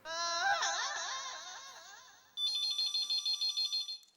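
An electronic ringtone: a warbling, harmonic-rich tone sustained for a couple of seconds, then a rapid pulsing series of bright beeps, clear and close.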